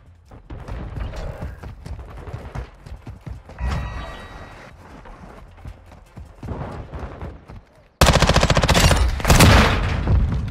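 An MPX submachine gun in Modern Warfare 2 fires long rapid automatic bursts, fairly distant early on, then a loud, close, dense stream of shots near the end, with no one talking.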